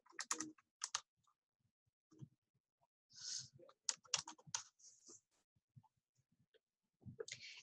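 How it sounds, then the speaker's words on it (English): Clicky bursts of typing on a computer keyboard come in short, separated runs of keystrokes, close and fairly quiet against a silent background. "Now we're going to type the website."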